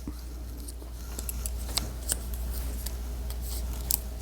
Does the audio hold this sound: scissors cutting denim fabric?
yes